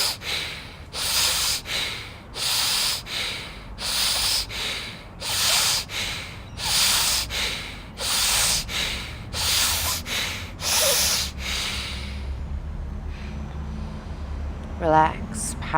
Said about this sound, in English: 10 breaths of Bhastrika.